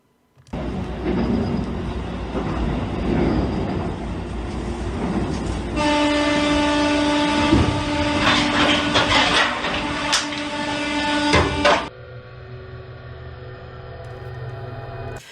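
A subway train running in a played recording, with a loud, steady rumble and rattle of the carriages throughout, bright tonal whine and screech building in the middle section, then a quieter hum near the end.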